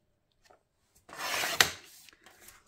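Paper being trimmed for a summer scrapbook layout: a steady rasping cut lasting about a second, with a sharp snap at its end and a few small handling rustles before and after, close and alone.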